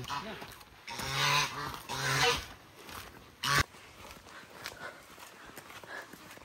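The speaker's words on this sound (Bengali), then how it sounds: "রাজহাঁস আছে, তাড়া দেবে না তো দাদা?" Loud, close honking calls of domestic geese in two strong bursts, followed by fainter squawks and background murmur in a large resort garden.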